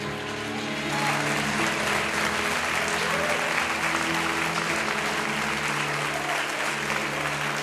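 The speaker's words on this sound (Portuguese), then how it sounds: "Aplauda o Senhor." A church congregation applauds during a sermon, steady sustained clapping over a held musical drone or sustained organ-like tones underneath.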